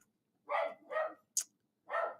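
A dog barks three times in a loose, evenly spaced series, close and fairly loud, with a brief sharp squeak or yip between the second and third barks; otherwise quiet.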